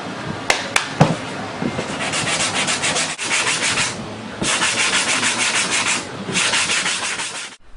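Sanding block rubbed by hand over car bodywork, steady rasping back-and-forth strokes in long bursts with brief pauses, close and fairly loud, a few sharp knocks at the start.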